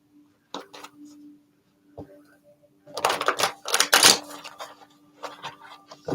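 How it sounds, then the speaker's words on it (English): Tarot cards being shuffled close by, a few crisp flicks and then a dense burst of rapid riffling and slapping cards, stopping and starting irregularly. "let's give them a good shuffle"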